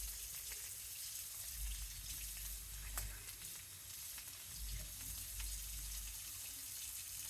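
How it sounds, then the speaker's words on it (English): Hot water poured into a pan for taco seasoning, a steady hiss and sizzle of liquid meeting hot food, close and continuous for several seconds with no talk. "You put 2/3 cup of hot water in"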